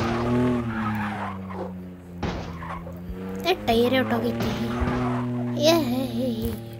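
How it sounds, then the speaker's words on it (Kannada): A Range Rover with a burst tyre skids in a car-crash video game, its tyre squeal and engine tone sustained at a steady, prominent level while a young voice talks excitedly over it. "ಗಾಡಿ ಟೈರ್ ಹೊಟ್ಟೋಗೈತೆ"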